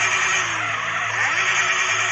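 A Yamaha XJ6 motorcycle pulling away in GTA San Andreas, a loud, continuous engine whine with rising and falling pitch sweeps under a steady bright hiss, close and alone without talk.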